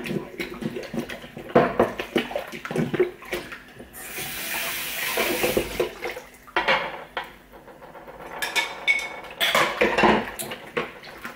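Dishes and cutlery clatter in a kitchen sink, with bursts of running water from a tap between clinks, close and fairly loud.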